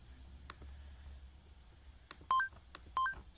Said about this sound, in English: So now that sound effect plays every time you click.